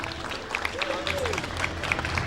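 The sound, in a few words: audience applauding voice actress at conference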